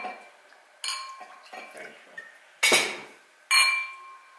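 Glasses clink together in a lunchtime toast at a wine-region gathering in Kakheti, Georgia: three bright, ringing bursts, the last two loudest, with softer clinks and rattles of tableware between them, close by and with no talk over them.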